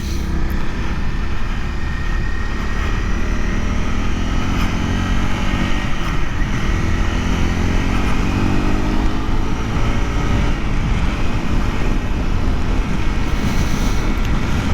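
A Honda CRF 250L motorcycle cruising in sixth gear at around 70, with a steady, loud engine drone and heavy wind rush running unbroken throughout, no talk over it.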